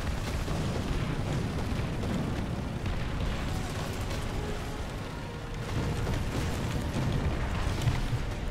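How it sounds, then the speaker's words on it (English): Dense, continuous rumble of artillery explosions and battle noise in the tank game War Thunder, with thuds and booms blending into a loud, steady wall of sound. "Incoming artillery fire."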